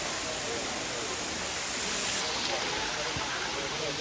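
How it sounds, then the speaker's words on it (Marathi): A full waterfall near the Srisailam temple roars as a steady, dense broadband rush of falling water, constant and loud throughout with no talk over it. "आणि तिकडे एक धबधबा आहे पूर्ण."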